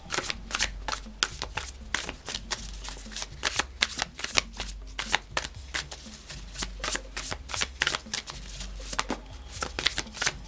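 Tarot cards are shuffled by hand at close range, a continuous run of quick, crisp riffling and flicking taps that never stops.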